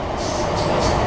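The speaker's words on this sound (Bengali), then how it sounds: "বহরমপুর আজিমগঞ্জ মেমু প্যাসেঞ্জার ছুটে চলেছে আজিমগঞ্জের পথে।" Berhampore–Azimganj MEMU passenger train near Murshidabad running on rails past a level crossing, heard as a steady, loud broadband rumble of wheels and carriages throughout, with no voices.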